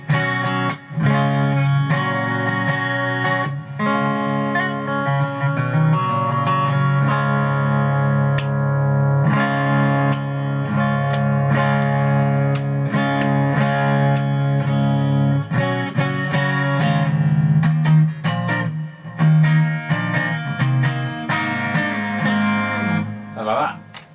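Epiphone Nighthawk Custom electric guitar on a coil-tapped neck pickup, a continuous stretch of chords and single-note lines with a slightly thinner, quieter tone, sustained without pause.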